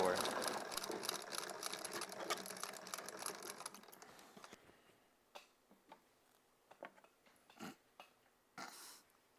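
A threaded sewing machine runs steadily for about four seconds, stitching fabric with a dense rapid hum, then stops; scattered clicks, handling knocks and brief talk follow.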